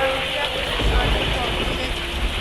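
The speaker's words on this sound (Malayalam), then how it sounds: "നല്ല മഴയുണ്ട് ഗൈസ്" Heavy rain pours down in a dense, steady roar, close and unbroken, with a low rumble underneath.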